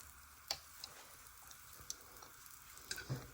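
Sausages frying in pancake batter on a griddle give a steady, soft sizzling hiss, with scattered small pops and crackles rising above it, close by and without any talk.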